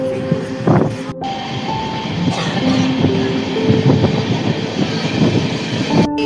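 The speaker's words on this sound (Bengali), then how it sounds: "এখন আমাদের ট্রেন যাজপুর জ্ঞানঝড় ক্রস করে কটকের দিকে" The Gurudev Express runs near Jajpur toward Cuttack in early morning, heard from inside as a steady rumble with wheel clatter and brief high tonal squeals.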